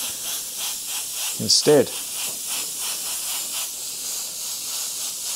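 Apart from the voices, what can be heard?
airbrush spraying white paint onto paper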